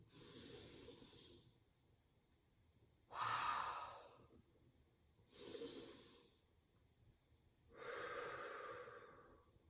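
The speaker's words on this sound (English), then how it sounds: "we breathe in and then we breathe out through pursed lips" Four slow, airy breaths during a vocal warm-up, alternating in and out through pursed lips, each a soft hissing rush lasting about a second or two, close and quiet with pauses between.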